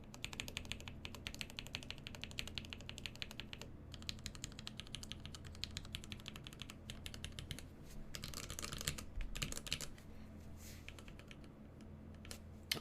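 Steady typing on a Numro mechanical keyboard fitted with foam, a dense run of soft, muted clacks at close range with brief pauses and a few quieter gaps, no talking over it.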